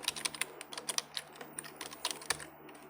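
Quiet, close clicking of keys on a computer keyboard as a password is typed, a quick irregular run of light taps over a faint steady hum.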